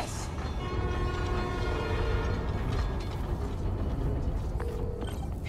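In the Spider-Man Miles Morales video game, a subway train rumbles along with steady rail clatter, metallic screeching and mechanical rattling, loud and continuous throughout.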